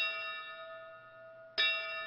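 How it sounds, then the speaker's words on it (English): A single struck bell rings at a firefighters' memorial service, its sustained tone decaying before a second clear strike rings out loudly and lingers, with no talk over it. "Back inside, the final bell."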